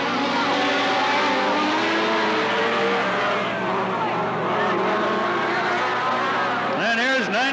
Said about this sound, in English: And here's 97, that 1200cc Mike Shane car